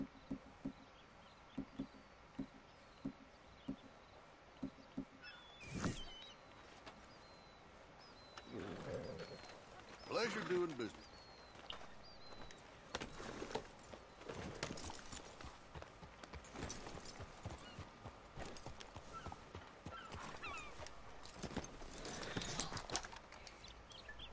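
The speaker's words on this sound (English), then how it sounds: "Just gone past a bunch of wild horses." Wild horses in Red Dead Redemption 2 make hoofbeats that clip-clop in a steady rhythm, along with scattered louder snorts or whinnies at moderate distance and occasional faint voices.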